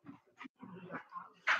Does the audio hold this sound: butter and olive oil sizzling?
no